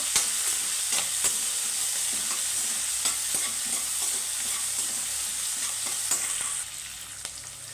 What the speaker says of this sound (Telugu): ఉల్లిపాయ బాగా వేగాలండి